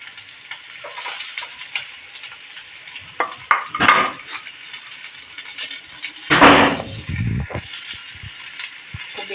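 Chopped red and green bell peppers, carrot and cabbage are stirred in a pan for spring rolls, with a sizzling hiss, scraping and clanks of the utensil against the pan, loudest in a couple of bursts.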